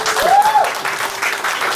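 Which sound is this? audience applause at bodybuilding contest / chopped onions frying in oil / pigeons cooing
audience applause at bodybuilding contest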